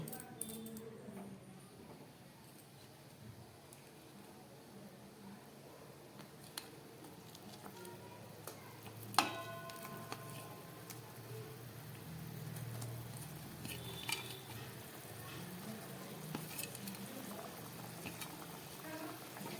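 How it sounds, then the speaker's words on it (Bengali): Chili paneer sauce bubbles at a steady boil in the pan while fried paneer pieces drop in, with a brief clatter near the middle over the continuous low simmering hiss. "ঝোলটা ফুটে উঠেছে এবার আমি এই ভেজে রাখা পনিরের টুকরোগুলো এর মধ্যে দিয়ে দেব"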